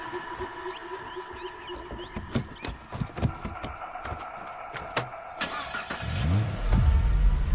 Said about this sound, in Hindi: आप ही गाड़ी चला लो।